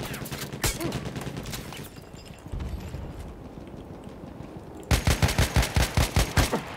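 Gunfire in the video game Battlefield 1: scattered single shots early on, then a loud, evenly paced string of close shots near the end.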